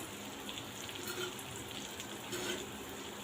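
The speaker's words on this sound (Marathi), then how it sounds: "आता या साईडने पण तिला चांगली फ्राय करून घेऊया" Mackerel fish fry in a pan with a steady, soft, continuous hiss of oil sizzling close by, with no talk over it.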